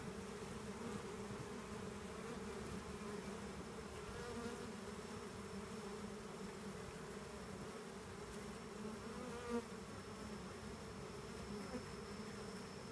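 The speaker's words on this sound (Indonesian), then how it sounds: "Apis indica ini termasuk jenis lebah madu yang tidak terlalu banyak ya" A swarm of Apis indica honey bees buzzes in a dense, steady drone that holds at an even level. Many wings hum close by, with no voices present.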